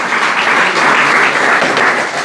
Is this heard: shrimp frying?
no